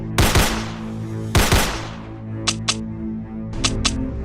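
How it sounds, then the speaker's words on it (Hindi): Cartoon gunfire as Shaun and Gulli shoot at zombies: two loud, sharp bursts of shots, then several short, lighter clicking shots in pairs, all close and with no voices. "ज़ॉम्बीज को आता देख शॉन उनके ऊपर फायरिंग करने लगता है"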